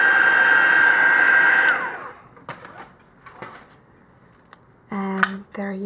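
Heat tool warming embossing paste for a heat-embossing texture effect on a craft project. The steady, loud blowing whir runs for about two seconds, then stops, followed by quiet handling clicks and brief bumps.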